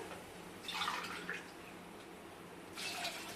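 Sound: water being poured into rice

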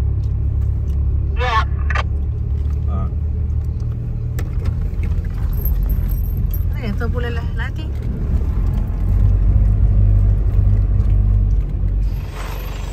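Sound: car making noise

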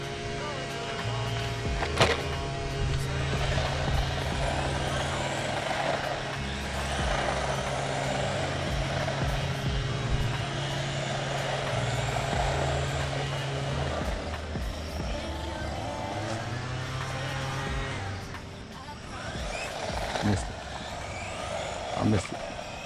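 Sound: PKX Beast 1/16 RC truck driving

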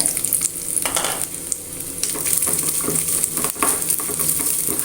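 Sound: coconut pieces frying in ghee

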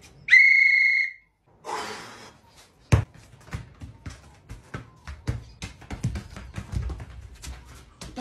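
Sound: referee's whistle at school futsal match

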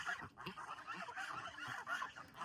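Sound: geese honking

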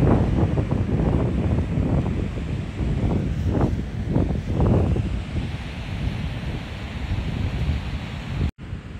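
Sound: wind and waves at the beach

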